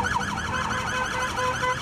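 Police car sirens wail in a repeating rising and falling pattern, loud and close, as Civil Police officers park their patrol vehicles and switch on the sirens during a protest in Rio Grande do Norte, Brazil.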